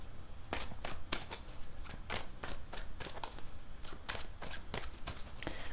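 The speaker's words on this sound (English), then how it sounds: "Let's give these a few shuffles" Tarot cards are shuffled by hand in a rapid series of crisp riffling and slapping bursts, close up and fairly quiet, with no speech.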